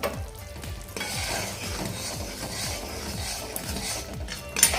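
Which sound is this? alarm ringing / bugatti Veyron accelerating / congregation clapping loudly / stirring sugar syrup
stirring sugar syrup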